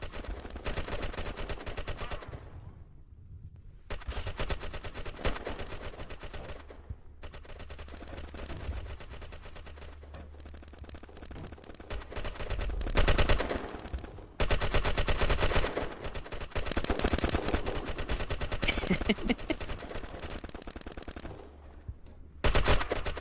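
Rapid bursts of automatic gunfire and single shots from the browser-based shooter game Red Crucible Reloaded, loud and dense with brief pauses between volleys.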